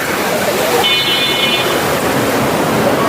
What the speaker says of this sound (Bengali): জোয়ার ভাটার মতো পানি যাইতেছে